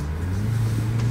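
A car engine hums and builds gently in pitch as it accelerates, heard close and steady for a brief moment with no talking.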